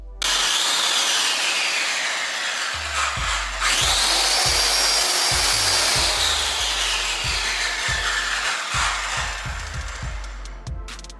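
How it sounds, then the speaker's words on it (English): A circular sander grinds leftover glue off a hallway floor, a continuous loud whirring drone with rising and falling pitch and repeated low thumps and scrapes as the pad is pushed across the surface. "using a circular sander to really get off the last bits of glue from the hallway"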